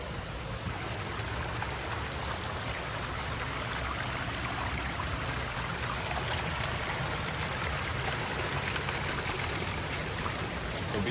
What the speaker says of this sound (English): The water just coming through.